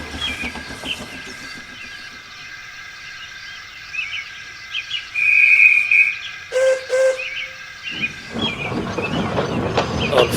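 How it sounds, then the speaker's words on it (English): A steam train hauling a line of trucks comes to a stop at the top of a hill, with faint rail clatter and clanks under steady high chirping, then a louder burst of noise at the end. "At the top of Gordon's Hill, Donald stopped so that the brakes could be checked along the train."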